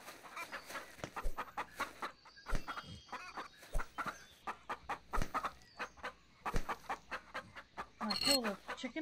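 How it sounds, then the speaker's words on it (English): A chicken in the survival video game Gone Survival clucks in a long string of short, sharp bursts, close and fairly loud, with a rising squawk near the end. "Kill the chicken."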